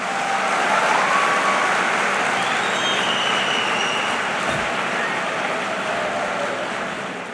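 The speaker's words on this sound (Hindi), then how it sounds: "देखो ताली बजाई है तुमने" A large crowd at a motivational talk claps together, a loud, dense, sustained wash of applause that holds steady and slowly fades toward the end, with no speech on top.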